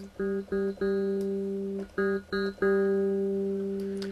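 Bright electric piano tine notes ring out in short repeated stabs, then a longer sustained chord, clear and close with no voices.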